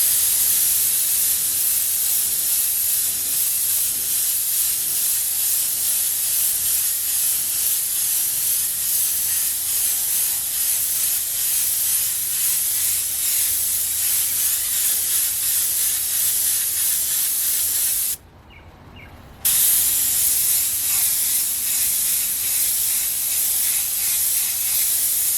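An airbrush held at a tilt sprays paint across a portrait's forehead and cheek, a steady close hiss running unbroken for most of the stretch with one brief pause near the end before resuming.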